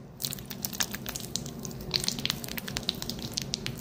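A broken ball filled with soapy cream is squished and rubbed by hand, giving close, wet crackling and squelching bursts in an irregular rhythm with no talking.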